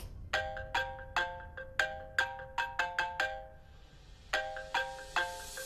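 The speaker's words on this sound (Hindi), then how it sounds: "फोन उठा लो बेटा कि देखो किसका है।" A phone ringtone plays a repeating melodic pattern of bright chiming tones, rising in short bursts with a brief pause midway, fairly quiet.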